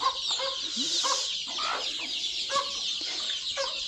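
Several native chickens and chicks cluck and chirp close by in short repeated calls while eating greens, with soft rustling in between.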